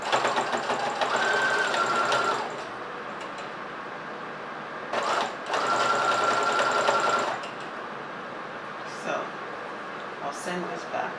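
A sewing machine stitching a neck placket runs in two steady bursts of a few seconds each, with quieter handling noise and a voice talking between them.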